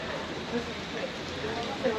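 Pouring rain falls steadily over a crowded train platform, a dense, even hiss lasting throughout with a faint murmur of voices mixed underneath.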